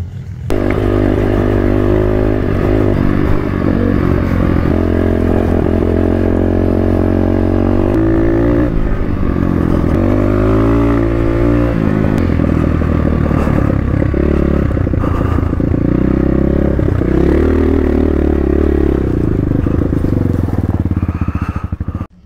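A Factory AK47 250 motorcycle engine revs loudly and continuously up close, its pitch rising and falling as the rider throttles through gears.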